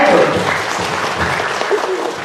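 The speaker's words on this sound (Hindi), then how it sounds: "अंकित के लिए जोर से तालियां बजाइए" A seated audience at a Brahma Kumaris spiritual programme claps loudly and briskly in a short burst of dense applause, with some voices murmuring underneath.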